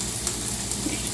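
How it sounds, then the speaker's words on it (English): Potato pieces grilling in hot oil, a steady close crackling sizzle that holds even throughout with no talk over it. "As you can hear, it's sizzling nicely."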